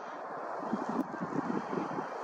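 Steady wind buffeting the microphone, a low rumbling roar with gusty fluctuations that continues throughout.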